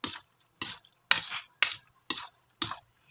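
Macaroni salad with cheese is stirred in a bowl in six steady, evenly spaced scraping strokes, close and fairly clear, with no one talking.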